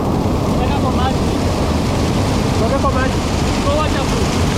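A waterfall pours in a steady, loud rush of water, close and continuous, with speech faintly audible beneath the roar.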